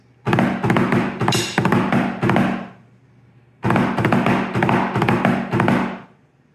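Two snare drum double drags, each a rapid string of grace-note ruffles into accented hits, separated by a short pause, played alone up close.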